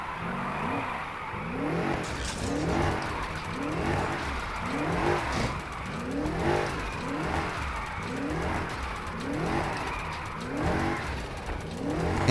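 A Fox Body Mustang video game car with a 4.9-liter twin-turbo V8 and 4-speed gearbox drifts in NFS Heat, its engine droning and revving in steady waves under continuous tire squeal, loud and close throughout.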